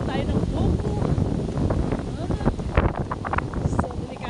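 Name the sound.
strong wind at the beach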